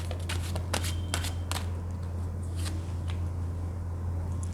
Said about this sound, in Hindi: जब तक मैं कार्ड शफल कर रही हूँ